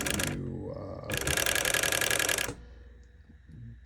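A restored Merrow sewing machine, its servo motor set to run in reverse, whirs up close in a short burst and then a longer, steady rattling run before stopping abruptly.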